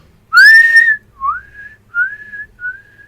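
A person whistles a short signal: one long rising note followed by three shorter, softer tones in a quick, even sequence.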